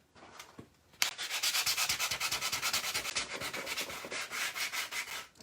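A wooden Christmas-tree-shaped board is sanded by hand with rapid, rhythmic back-and-forth scratchy strokes, close and steady after a brief quiet start, with no voices.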